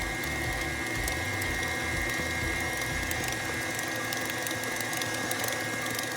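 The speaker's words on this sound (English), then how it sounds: "now I am going to turn on my mixer and mix everything together" An electric mixer whirs steadily through carrot muffin batter, a dense continuous mechanical drone with a grinding, ratcheting edge that stays loud and unbroken throughout.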